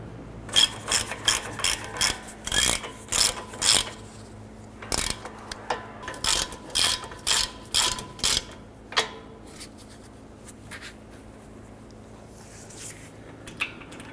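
A hand ratchet snugs down bolts on a 2009-2015 Honda Pilot front CV axle, with repeated bursts of sharp clicking pawl strokes in a steady rhythm, then slowing and stopping; close and clear, no talking.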